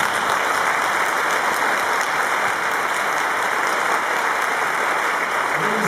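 Audience in a screening hall applauding a producer, a dense, steady wash of clapping from many hands at a constant loud level throughout.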